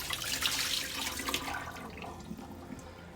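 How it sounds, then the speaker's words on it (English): Soaking water poured off cut potatoes for steak fries, a steady close rush of running liquid that tapers off toward the end with a few splashes. "We're going to go ahead and dump the water off those."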